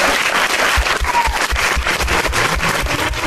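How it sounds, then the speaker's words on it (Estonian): Loud, close crowd applause greets the award laureate, the Estonian National Museum summer pavilion, at a cultural awards event: a continuous, thick roar of many clapping hands that stays even throughout. "Palun suurt aplausi."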